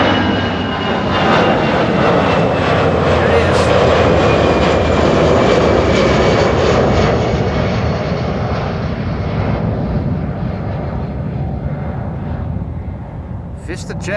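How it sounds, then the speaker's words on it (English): A VistaJet Bombardier Challenger 350 business jet takes off from Amsterdam Schiphol with a loud, steady engine roar that slowly fades as it climbs away. "VistaJet on its way to Rome. That's a Bombardier Challenger 350."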